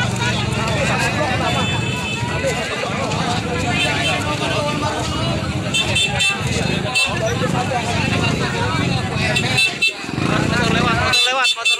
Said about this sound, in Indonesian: Motor lewat